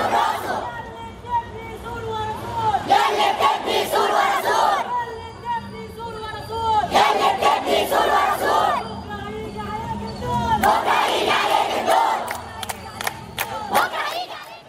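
A large crowd of young Egyptians chants slogans in rhythmic, loud bursts of many voices, rising and falling in repeated waves with shouting between them.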